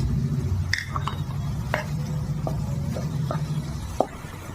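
Spices being stirred and fried in a pan for a duck egg curry with potato and pointed gourd, a low sizzle under soft scraping and a few light clicks of a spoon against the pan, close and steady.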